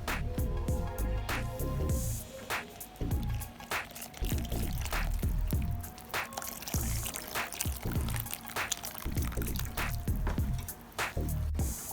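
Water is poured and stirred into white plaster of Paris, with soft repeated dripping, sloshing and squishing strokes, close and fairly quiet, in a steady mixing rhythm.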